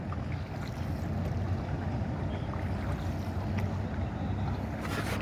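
A boat out on the Mahanpur River, with a steady low rumble of moving water and wind, faint and even throughout, with no voices.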